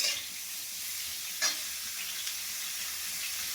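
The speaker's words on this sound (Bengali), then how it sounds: "একটু 5 ফোড়ন দিয়েছি, কাঁচা লঙ্কা দিয়েছি, দিয়ে আমি এটা ভেজে নিচ্ছি।" Cauliflower fries in a pan with five-spice seeds and green chili, giving a steady close hissing sizzle with one brief scrape of stirring partway through and no speech.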